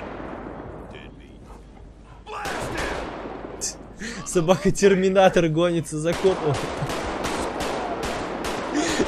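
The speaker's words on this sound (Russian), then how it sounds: "10 выстрелов в голову контрольных собаки" Video game GTA 5 Redux gunfire: a rapid string of sharp shots and heavy blasts clatters loudly while someone speaks excitedly over the action.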